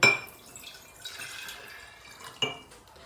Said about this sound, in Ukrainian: Тож я беру 250 грамів води